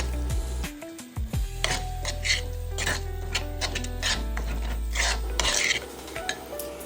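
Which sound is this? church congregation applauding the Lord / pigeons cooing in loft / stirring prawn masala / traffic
stirring prawn masala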